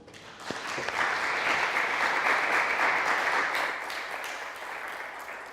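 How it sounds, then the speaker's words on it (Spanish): An audience at a literary lecture in the Biblioteca Nacional applauds in welcome of writer Laura Freixas, a dense, steady clapping that swells quickly and holds for several seconds before easing off slightly, with no voices over it. "pedirles para ella pues, un aplauso de bienvenida"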